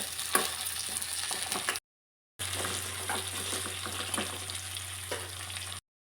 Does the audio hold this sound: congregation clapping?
no